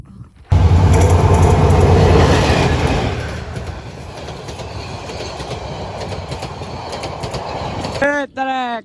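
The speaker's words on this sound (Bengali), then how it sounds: "অবশেষে মেহেদির ট্রেনটা কেটে গেল" A train rushes past at close range with a loud roar and clattering wheels that gradually thin out, ending with a brief voice right after it goes by.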